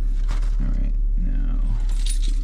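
A ring of keys jangles in short metallic bursts close by, over a steady low engine-like rumble and muffled voices talking in the background.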